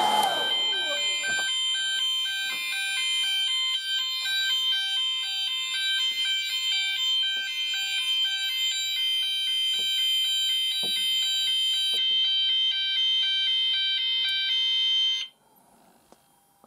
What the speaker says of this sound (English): Heat detector activated.